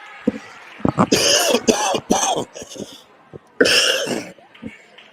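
A person coughs repeatedly in harsh, loud bursts close by, with a throat-clearing sound among the coughs, during a girls' varsity volleyball match.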